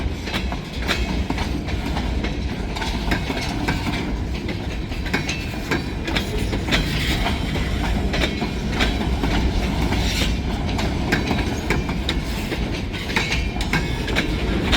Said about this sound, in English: maybe there's a locomotive on the back pushing